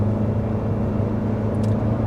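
A 2023 Ford Escape ST-Line picks up speed on the road, its engine giving a steady, loud low rumble that holds evenly throughout with no talking over it.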